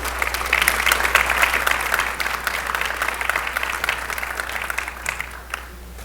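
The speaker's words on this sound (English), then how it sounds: "Please give another round of applause to Courtney Nyman on piano and Michael Buffard on violin." An audience at a high school spring orchestra concert claps for a pianist and violinist, a dense, close round of applause that stays full for several seconds and then thins out slightly.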